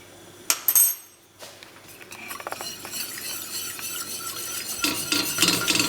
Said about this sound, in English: and stir it. And you keep stirring until it thickens.